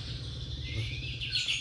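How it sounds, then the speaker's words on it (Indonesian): A white-rumped shama (murai batu) sings a short run of clear, varied whistles and chirps, fairly close and alone, over a faint low background hum. "variasi suara dari burung murai batu tersebut"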